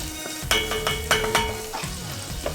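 A whisk scrapes and clinks in quick strokes through flour and half a cup of melted butter in a pan, with a soft sizzle underneath.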